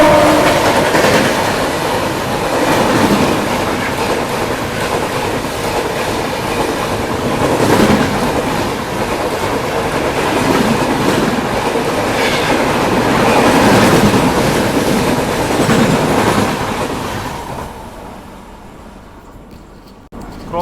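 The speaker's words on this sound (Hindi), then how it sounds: "ये लो दुरंतो एक्सप्रेस आ गई है" A Duronto Express hauled by a WAP5 locomotive rushes past a level crossing in India, a loud, sustained roar with rhythmic clickety-clack of wheels over rail joints, fading out near the end.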